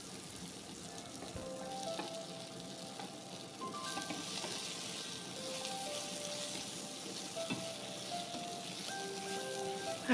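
Chopped onions and tomatoes fry in a pan on low heat, giving a steady, close sizzle and crackle with occasional stirring scrapes, no talking.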